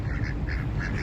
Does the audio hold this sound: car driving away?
no